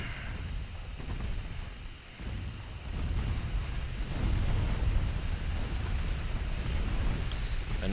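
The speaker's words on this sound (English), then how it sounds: "my 6-inch gun just cooked off" A low, rumbling explosion from a 6-inch naval gun cooking off in the naval warfare game Ultimate Admiral Dreadnoughts swells into a sustained, noisy roar with deep booming undertones, moderately loud and without talk.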